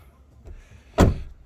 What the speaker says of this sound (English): Yeah, and open my door.